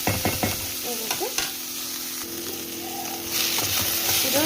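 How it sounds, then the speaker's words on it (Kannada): Ingredients for egg chops frying slowly in a pan: a close, continuous sizzle with clattering stirs and scrapes of a spoon, growing a little louder toward the end, without speech. "ಇದು ನಿಧಾನಕ್ಕೆ ಫ್ರೈ ಆಗ್ತಾ ಇದೆ"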